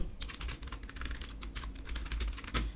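Fingers tap out an email address on a computer keyboard in a quick, close run of crisp clicks, ending in a slightly firmer keystroke, with no talking.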